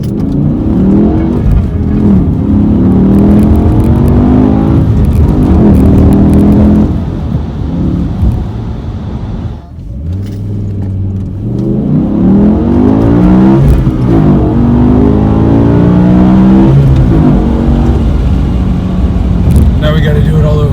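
A BMW M5 E60 engine pulls hard while driving, rising and falling in revs over several long sweeps, loud and close inside the car, with people talking over it.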